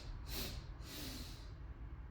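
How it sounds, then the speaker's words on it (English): A person inhales through the nose in two audible bursts during a slow breathing-and-stretching exercise in a garage, breathy hissing pulses up close, faint and with no talking. "we're going to start with the nose. Okay, we're going to inhale"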